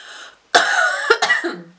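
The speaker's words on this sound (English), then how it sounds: "I can't believe I still have this cough" A person at home after a gym session gives a sharp cough followed by a second, rougher cough and a little throat clearing, close and loud in a quiet room.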